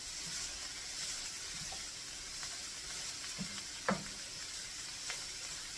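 Food sizzles faintly as it cooks down in a pan for homemade egg rolls, a steady soft hiss broken by a few light clinks and stirring knocks.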